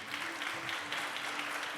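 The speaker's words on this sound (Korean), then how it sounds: "박수 부탁드립니다" Audience at a global citizenship forum claps steadily as a speaker is welcomed to the stage, an even, continuous ripple of applause with a faint tone humming underneath.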